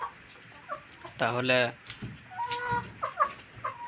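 Tiger-breed chickens on a poultry farm cluck close by in short bursts, with one longer drawn-out call standing out, while someone talks between the calls.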